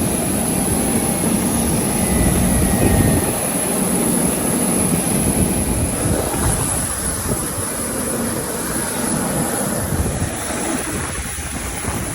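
Steady broadband engine roar and airflow of a Virgin Australia airliner heard from the cabin while boarding in Brisbane, a constant loud wash with no talk.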